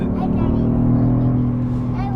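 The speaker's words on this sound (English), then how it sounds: "Now this V6 engine makes it very easy to pass, folks." A 2019 Genesis G80 Sport with a 3.3-litre twin-turbo V6 and rear-wheel drive accelerates to pass, a steady loud engine drone with a rising hum heard from inside the cabin, with a voice talking over it.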